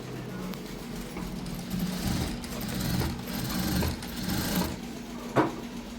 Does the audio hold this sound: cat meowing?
no